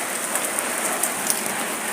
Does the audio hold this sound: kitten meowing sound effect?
no